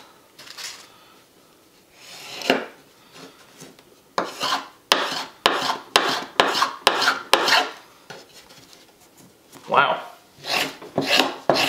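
A pocket knife rasps repeatedly across a cut-proof glove in a series of sharp scraping strokes, some quick and clustered, others slower, close and clear; someone briefly exclaims.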